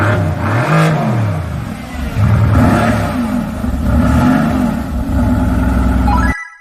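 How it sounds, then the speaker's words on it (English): A Mercedes-AMG GT 4-door engine rumbles deep and loud, rising and falling through several strong revs over steady low-end growl, close by, then cutting off abruptly at the end. "luxurious rumble. It's the Mercedes-AMG GT 4-door."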